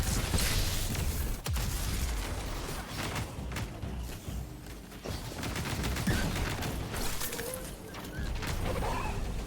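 Rapid gunfire in the video game Destiny 2, dense bursts of weapon shots, impacts and shattering effects packed together over most of the clip, with bits of faint game sound between volleys.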